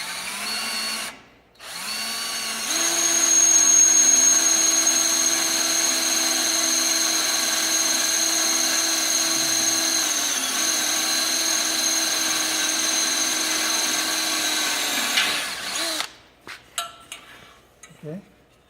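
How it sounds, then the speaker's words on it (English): A power drill bores a hole straight through wood for a deck safety handrail, its loud steady whine running about thirteen seconds after a short start, then stopping, with a few clattering knocks at the end. "You want to drill this first hole all the way through."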